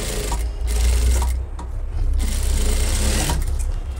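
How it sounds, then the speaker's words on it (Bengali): A sewing machine stitches elastic onto a school pants waistband, its motor whirring loud and close in continuous runs with a couple of brief pauses as the fabric is adjusted. "সেলাই দিয়ে নিতে হবে।"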